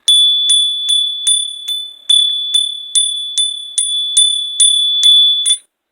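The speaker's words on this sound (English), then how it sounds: "Let me hit the bell." A small bell struck for cleansing before a reading, about thirteen bright, evenly spaced rings with a sustained high tone, each decaying before the next strike, close and loud with no talking.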